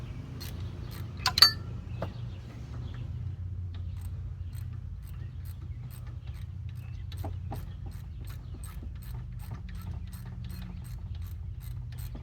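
Ratchet clicking in short runs while breaking loose the saddle bolts on a 2003-2005 Ford Crown Victoria alternator, close and fairly quiet over a steady low hum, with a brief sharp metallic clink near the start.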